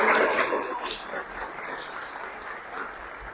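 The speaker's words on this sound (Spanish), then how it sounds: "Yo creo que se merece un fuerte aplauso este equipo" Applause from the audience at a live medical science session, honoring a hospital work team, a broad crackling wash that starts strongest and fades slightly while continuing steadily to the end.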